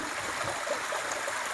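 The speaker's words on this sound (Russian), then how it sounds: "звуки журчащего ручья." A babbling mountain stream runs through a rocky gorge in Dagestan, giving a steady, close, continuous rushing and trickling of water with no voices.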